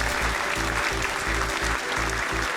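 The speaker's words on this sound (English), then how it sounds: "let's give them a huge round of applause" An audience applauds award-winning Atomy centers at a seminar, a dense, even wash of clapping that carries on steadily at moderate level throughout.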